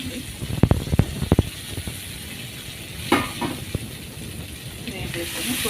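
Vegetables for a village-style chutney sizzle and hiss steadily in a pan, with scraping stirs and a few sharp knocks of the spoon throughout.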